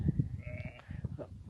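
Sheep and goat kids bleating on open pasture during lambing and kidding season, several short nasal calls overlapping across a brief moment, close and moderately loud over a low rumble of handling and movement.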